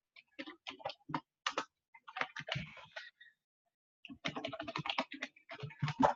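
Login credentials typed on a computer keyboard, close rapid bursts of crisp key clicks in uneven clusters, with a brief pause midway before another quick run of keystrokes.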